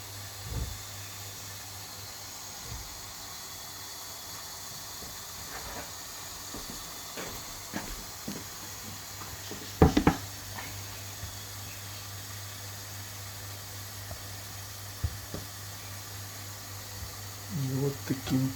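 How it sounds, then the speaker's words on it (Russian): Eggplant slices frying in a pan, a steady soft hiss of oil throughout, with occasional clinks and scrapes of a utensil against the pan. "Обжариваем баклажаны"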